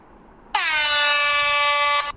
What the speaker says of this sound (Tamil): ஏர் ஹார்ன்,